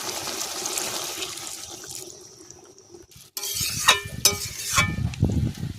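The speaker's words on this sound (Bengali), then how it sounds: "এবারে এর মধ্যে দিয়ে দেবো গরম জল।" Hot water poured into a pot of braised chicken and potatoes, a quiet sizzle giving way to a loud splashing gush and bubbling, close up with no talk.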